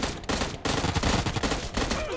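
Rapid gunfire from an M69 rifle in PUBG Mobile, a dense, loud burst of repeated shots that briefly pauses and then resumes, continuing throughout without any talk.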